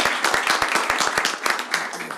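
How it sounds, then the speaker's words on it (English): Applause from the audience at a Leavenworth city commission meeting, a steady patter of many hands clapping for about two seconds, fairly close and even in loudness. "How about a round of applause for..."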